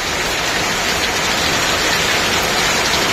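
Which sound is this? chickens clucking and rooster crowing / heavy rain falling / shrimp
heavy rain falling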